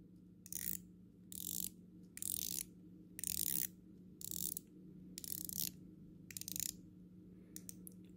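Ratcheting aluminum bezel on a Whitby Intrepid watch turned in seven or eight separate bursts of quick clicks, each about a third of a second long, with short pauses between them. The clicks are close and crisp against a quiet low hum.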